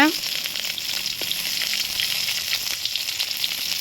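Dried red chilies frying in hot oil in a kadai, a bright crackling sizzle bursting in at the start and then settling into a steady close fizz with light stirring taps, no talking.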